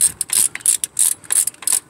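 A hand ratchet clicks in quick bursts while tightening an alternator bolt on a 2007 Acura TL, about seven sharp, close ratcheting strokes with short pauses between.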